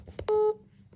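A telephone is dialed for a call: a couple of soft clicks, then a single short, steady keypad tone sounding close and clear in an otherwise quiet room.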